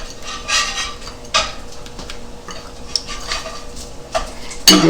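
A spoon stirs a fenugreek and small round eggplant mixture seasoned with chili flakes in a pan, with soft scraping strokes and a few sharper knocks against the pan, close up and without talk.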